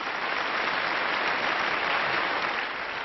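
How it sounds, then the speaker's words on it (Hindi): Steady, dense applause from an awards-show audience fills the space, loud and even from start to finish with no voices over it. "तालियां बजा दो यार"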